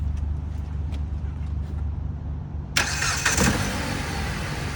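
A car engine started without pressing the gas, a quiet low hum first, then a sudden crank and catch settling into a steady close idle.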